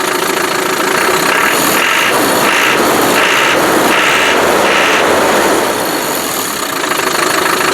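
Land Rover Defender with a TDI diesel engine, running steadily with a broad, loud rumble and several short rises in pitch as the throttle is blipped, no talking.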